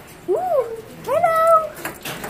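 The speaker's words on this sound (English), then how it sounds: "Hey, baby kitties!" Two close, clear meows from baby kittens, the second longer and higher, followed by a brief rustle.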